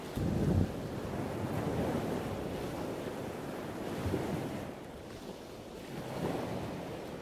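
Surf breaks on the seashore in a constant roar with gentle rises and falls, wind rumbling against the microphone throughout, nothing else audible.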